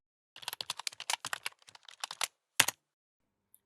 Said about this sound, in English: And I'm going to type npm start.